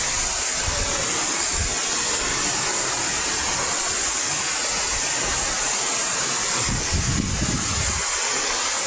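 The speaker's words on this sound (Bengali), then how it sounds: "প্রচুর বৃষ্টি আর বাতাস" Heavy rain pours down amid strong wind in a continuous, dense, close roar that stays loud and even throughout, with low gusty rumbles swelling now and then and no voices.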